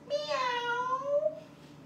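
A voice imitates a cat's meow during a kids' yoga story, one drawn-out wavering meow, close and clear, with nothing else heard.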